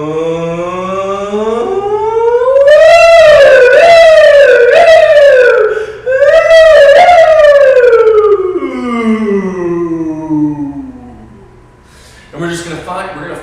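Voices imitate a wailing siren, rising and falling in long sweeping tones, loud and close, pausing briefly before a short burst of talk.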